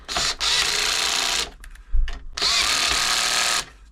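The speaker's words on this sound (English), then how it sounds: "Now we can tighten up the big ones. Use the electric screwdriver for that." Electric screwdriver tightening the large screws on a Janome Atelier 6 sewing machine during servicing, two loud close whirring runs of about a second each, separated by a short clunk and pause.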